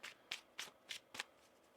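A deck of tarot cards is shuffled in five quiet, crisp riffling bursts spaced about a third of a second apart, close to the microphone, with no voice.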